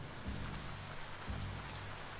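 Steady rain pours down in the Biomutant video game, a dense hiss of drops hitting surfaces that holds constant throughout, with a faint low tone underneath.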